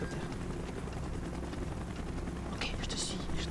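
Two helicopters in the Call of Duty: Black Ops video game, a dense rotor drone with scattered distant gunfire beneath it, under a low-voiced spoken line.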